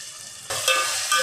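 Onions and tomatoes for a village-style mutton curry are sautéed in a pan, giving a close, loud frying hiss that swells suddenly midway, with a couple of soft clinks and no voices.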